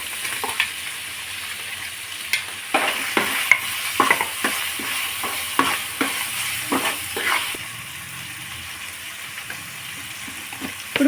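Tomato pieces fry in a pan after ginger and garlic for a vegetable biryani, with a steady sizzle and repeated scraping stirs, busy for the first seven seconds before the stirring eases into a softer hiss.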